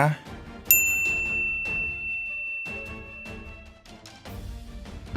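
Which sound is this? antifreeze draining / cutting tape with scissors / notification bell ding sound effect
notification bell ding sound effect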